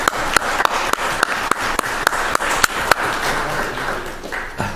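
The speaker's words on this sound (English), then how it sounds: "I want to just give a round of applause for Neat Streets if we could" Scattered clapping at a city council meeting for the Neat Streets group, a few distinct sharp claps in an irregular rhythm over a soft room hum, thinning out toward the end.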